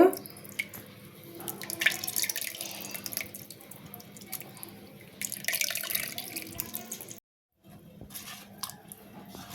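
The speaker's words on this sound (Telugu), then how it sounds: "ఇప్పుడు దీనిలో ఒక గ్లాసు నీళ్ళు వేస్తున్నా" A glass of water is poured into a clay pot of tamarind and oil for fish curry, giving a splashing, trickling pour with a brief silent break before the liquid sounds resume.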